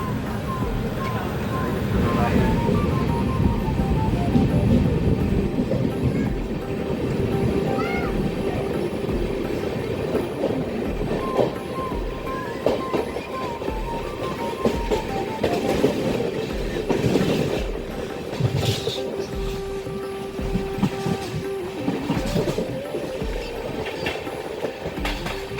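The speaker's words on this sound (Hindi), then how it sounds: "कर्जत जाने के बाद अब समय आता है ट्रेन को भोरघाट में जाने का।" The Deccan Queen Express running from Mumbai toward Pune on the Central Railway, steady rolling rumble with rhythmic clickety-clack over rail joints and brief wheel squeals, heard from aboard, with a voice talking over it.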